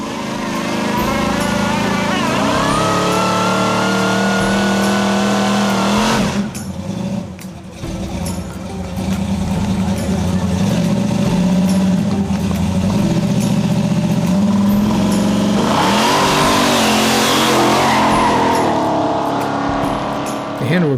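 A 1971 Plymouth Duster pro street car's V8 engine revs loudly and close, rising and falling in long pulls with a short lull midway and rough idling between, at an outdoor car event.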